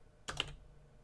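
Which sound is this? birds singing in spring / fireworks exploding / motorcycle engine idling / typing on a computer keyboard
typing on a computer keyboard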